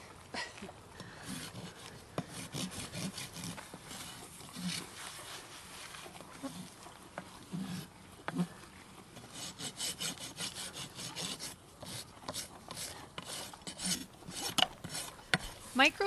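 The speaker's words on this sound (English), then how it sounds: "I'm just doing a light rasping, and you only really need to do about the lower third of the wall" A farrier's rasp files the lower hoof wall of a horse in steady back-and-forth strokes, a dry gritty scraping that repeats through the whole stretch at close range with no talk.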